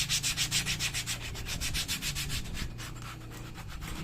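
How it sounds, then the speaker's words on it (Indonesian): Sandpaper scrubbed by hand over a surface to rough it up for carbon finishing, a steady rhythmic back-and-forth rasp of quick strokes, close and continuous with no talking. "Pokoknya dikenain aja semua ngamplasnya."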